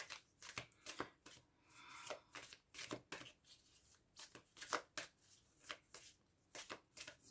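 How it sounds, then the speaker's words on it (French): Tarot cards laid down one after another on a surface, a close series of crisp paper slaps and flicks in an uneven rhythm, with no talking. "Je vais poser aussi les autres cartes"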